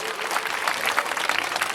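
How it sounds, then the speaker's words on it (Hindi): Audience at a Bhagwat katha religious gathering breaks into steady, dense clapping throughout, loud and continuous with no pauses. "एक बार जोरदार ताली बजाएं"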